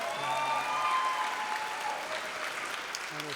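Graduates and audience at a 2023 high school graduation ceremony give a round of applause, a broad wash of clapping across a large hall that slowly thins, with a voice briefly heard near the end.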